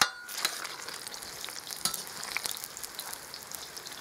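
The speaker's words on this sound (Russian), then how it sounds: "Все, лук у нас подгорает." Onions frying and starting to catch in a new 12-litre kazan, a steady hissing sizzle with scattered crackles and a few stirring knocks, close and even throughout.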